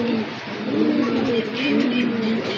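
Pigeons, including white racers and local Bombay birds, cooing in soft, continuous low warbling waves, close by with faint background noise.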